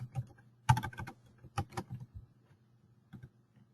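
Comments are typed on a computer keyboard in short irregular bursts of soft key clicks, close and fairly quiet, over a faint low hum.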